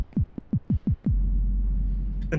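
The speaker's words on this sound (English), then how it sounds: "That's your heartbeat, right?" Heartbeat sound effect in the video game Only Up!: six deep, rapid thumps in quick succession, then a sustained low hum and rumble that continues to the end.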